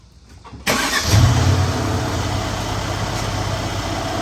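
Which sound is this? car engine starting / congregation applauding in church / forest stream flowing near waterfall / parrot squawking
car engine starting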